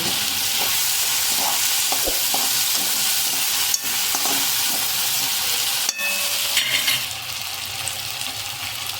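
Potatoes fry on a low flame in a pan with a steady, continuous sizzle, and occasional scraping clinks of a spoon stirring them come through close and clear, with no voices.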